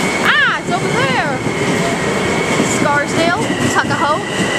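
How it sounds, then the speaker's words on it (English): A Bombardier M7A Metro-North commuter train on the Harlem Line at White Plains station, a steady loud rumble with squealing, sweeping wheel or brake tones rising and falling over it, and people talking nearby. "Here comes the train."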